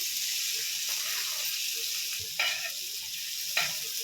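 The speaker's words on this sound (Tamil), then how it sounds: "இப்போ இதில் வந்து பொடியாக கட் பண்ண வெங்காயம் சேர்த்துக்கலாம்" Finely chopped onions fry in butter on a dosa griddle with a continuous bright hiss, and a couple of brief scrapes come through as they are moved around.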